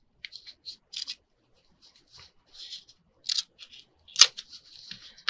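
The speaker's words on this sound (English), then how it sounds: "I go from where these connect and I cut straight back to the corner" Scissors snip through 12x12 paper to trim a corner for a journal cover, giving a series of short, crisp cuts in uneven bursts, close by and alone.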